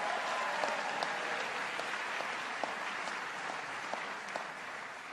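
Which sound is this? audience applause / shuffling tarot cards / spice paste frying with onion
audience applause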